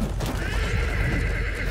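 A horse neighs loudly in the medieval combat game Chivalry 2, its whinny stretching across a busy battlefield backdrop with steady low rumble and clatter throughout.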